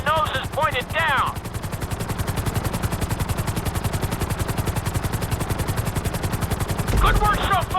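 Helicopter flying in GTA V, a loud close rapid rotor chop pulsing steadily throughout, with brief synthetic voice-like tones at the start and end.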